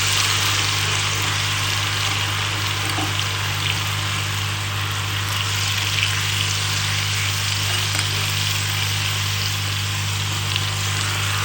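Chicken 65 frying in oil hisses and sizzles in a continuous, dense, even wash of sound, joined by a steady low electrical hum throughout, with no voices.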